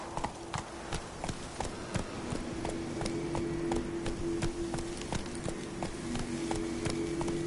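Roach the horse gallops at a steady rhythmic clip-clop, hooves striking in quick repeated beats over a soft continuous hum in an open-world game, with no voices over it.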